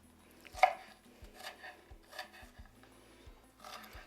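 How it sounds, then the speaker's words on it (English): A knife chopping onions on a cutting board, a quiet series of crisp, fairly evenly spaced cuts with short scraping strokes between them. "So I'm going to chop them up a little bit more."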